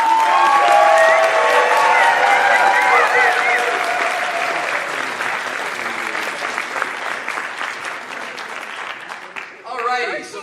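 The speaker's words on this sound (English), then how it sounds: "Let's give a huge round of applause." An audience at a charity convention event applauds and cheers loudly. Strong clapping and whoops sit under melodic tones early on, then thin out and fade toward the end, where a brief voice-like burst appears.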